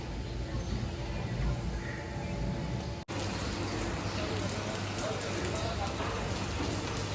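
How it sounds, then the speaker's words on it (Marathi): Rain falling steadily in Ranjangaon, a broad, even hiss of drops heard close by throughout, with a brief cut partway and a slightly denser patter afterward. "रांजणगावमध्ये आज पाऊस चालू आहे."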